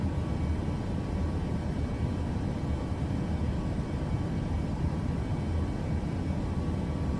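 A private jet engine in Microsoft Flight Simulator runs at full throttle, a steady broad roar held at constant level for several seconds with no talk.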